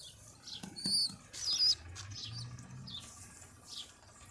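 Pet birds and their chicks flutter their wings in brief, close bursts, mixed with a few high chirps over quiet background noise, with no talking.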